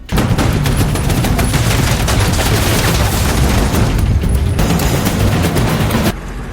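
Dense, loud battle gunfire from a film war scene, rapid overlapping shots and bursts rolling continuously with booming impacts, cutting off sharply near the end with no talk.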